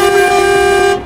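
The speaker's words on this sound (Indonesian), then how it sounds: "Klaksonnya. Wah, wibawa banget." A deep, steady MAN TGX truck horn blares in one long sustained blast, loud and close, then cuts off abruptly, in the video game Euro Truck Simulator 2.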